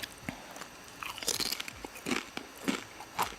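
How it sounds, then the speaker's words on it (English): Chips crunched and chewed close up in an eating video, a run of sharp crisp bites and munching with faint mouth noises between them, no talk. "that first crunch wasn't so bad, but the lip smacking needs to stop"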